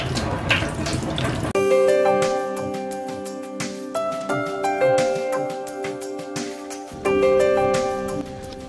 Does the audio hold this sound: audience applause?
no